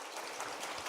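Church congregation applauding to welcome a new pastor during a worship service, a soft, steady patter of many hands heard faintly from a distance with no talking over it.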